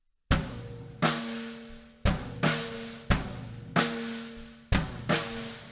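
A drum groove plays alone with deep, resonant tom hits on beat 1 and the and of 3 and snare on 2 and 4, repeating in a steady rhythm over a few bars.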